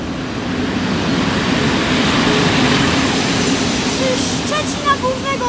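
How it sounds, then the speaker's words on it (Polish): An Intercity Osterwa train hauled by locomotive EP07-388 pulls into Gliwice station with a steady, loud rolling rumble, and thin high squeals rise over it in the last second or so. "I mamy wjazd pociągu Intercity Osterwa"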